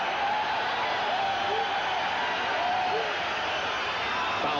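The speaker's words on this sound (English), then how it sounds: "And the crowd up again." A baseball stadium crowd at a 1986 game rises in a broad, steady roar of cheering that fills the whole moment, distant and sustained without clear breaks.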